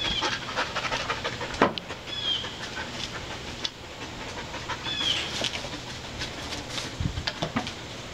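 A Malinois doing scent detection work pants rapidly and steadily close by, with a few sharp clicks and faint background rumble.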